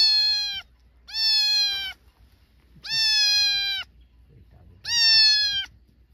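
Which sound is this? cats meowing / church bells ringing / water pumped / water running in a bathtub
cats meowing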